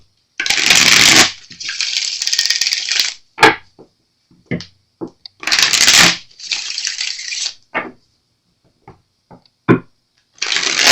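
A deck of tarot cards being shuffled up close, loud riffling bursts in repeated bouts separated by short pauses, with scattered soft taps and card handling between them.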